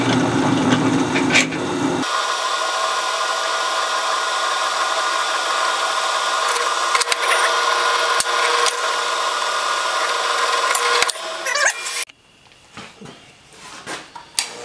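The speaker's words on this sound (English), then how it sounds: "drilling the hole is pretty straightforward" A steady, loud power drill whirs continuously for about ten seconds while drilling a hole for a large J hook, with a brief scraping start and quieter clatter and handling noises after it stops.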